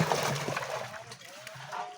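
Water poured out and splashing near a fish trap during net fishing, soft sloshing and trickling under a man's speech.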